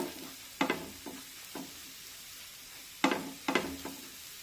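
Oil dabbed onto a bajra (pearl millet) flour thalipeeth roasting on a pan, heard as quiet scattered bursts of sizzle and light scraping, with long near-silent gaps between them.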